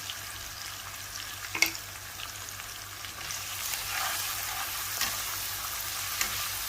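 Turmeric and red chili powder fry in hot oil in a pan with a steady, close sizzle and crackle, marked by an occasional sharp clink of a utensil.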